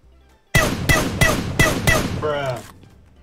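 Five sharp, evenly spaced gunshots ring out in a PUBG-style battle royale shooter, each loud and close with a short decaying tail, followed by a brief rattling clatter before fading to quiet.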